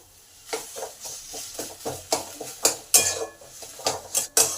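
Potato masala being stirred in a pan with a little water added, a metal spoon scraping and clinking against the pan in a steady run of repeated strokes that grow louder toward the end.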